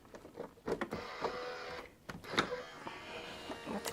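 A die-cutting machine grinds as plates are cranked through it while crafting, a short mechanical whirring with uneven bursts and clicks, close and fairly quiet.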